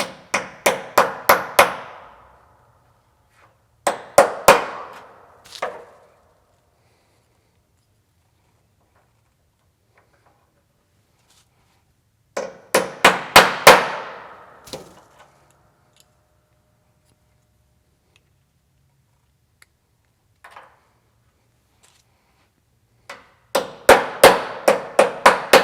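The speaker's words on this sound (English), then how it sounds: "You'll need a roll pin punch, and you'll need a small hammer" Small hammer striking a roll pin punch to drive a pin through a Mustang engine bay dipstick handle, in quick clusters of sharp metallic taps separated by pauses, close and alone.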